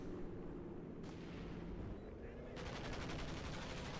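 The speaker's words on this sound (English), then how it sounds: "Panzerwerfer's about to unleash hell again here upon Stuve" Panzerwerfer rocket artillery barrage in Company of Heroes 2, a faint rapid rippling of launches and distant rumbling impacts under a dense battle din.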